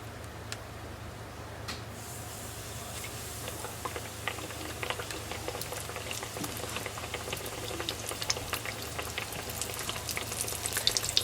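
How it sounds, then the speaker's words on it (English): Breaded green tomatoes fry in a pan with a steady, close bubbling sizzle and scattered crackling pops that grow slightly denser toward the end, over a low background hum. "And after I get finished frying these"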